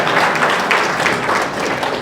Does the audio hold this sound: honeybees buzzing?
no